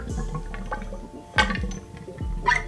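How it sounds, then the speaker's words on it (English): Fork oil bubbling and gurgling inside a Honda XR 200 dirtbike front fork as it is worked back and forth, with soft liquid glugs in a few bursts, close and quiet. "You'll hear it bubbling. That's just the oil getting worked in all the inner chamber"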